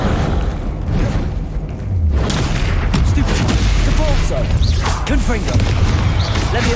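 Confringo explosive spell blasts in Hogwarts Legacy, booming impacts and crackling bursts in rapid succession amid chaotic combat, loud and dense throughout.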